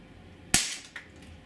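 A single sharp crack from a Walther PPS 4.5mm CO2 blowback airgun, close and clean, with a brief quieter mechanical snap following moments later.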